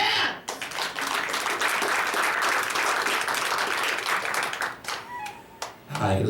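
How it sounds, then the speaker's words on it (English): A crowd at a hypnosis show claps loudly and steadily for several seconds, then the applause thins out and fades. "clap your hands"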